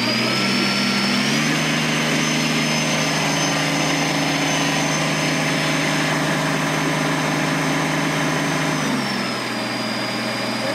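A Kubota BX2380 compact tractor engine runs at about 2,000 RPM during a hydraulic lift pull, a loud steady drone whose pitch rises as the load comes on, holds with a whining tone, then settles back near the end.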